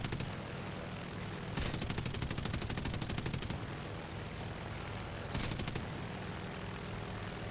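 Aircraft machine guns hammer out two long, rapid bursts in War Thunder's J22-B fighter, each a dense, steady rattle of fire lasting about two seconds over a constant droning engine.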